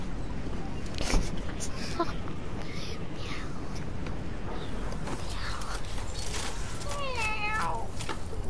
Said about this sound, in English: Come here, kitty, kitty.